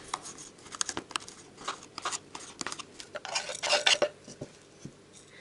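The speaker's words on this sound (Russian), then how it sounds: "Я прям его с семенами, видите, я кружочками режу" A knife slices a hot pepper, seeds and all, into rings on a cutting board in quick, uneven taps, close and fairly clear with no talking.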